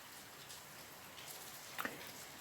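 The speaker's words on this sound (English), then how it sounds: "It's raining like crazy today" Heavy rain falls on a tropical island, a faint even hiss with a brief drip or splash near the end.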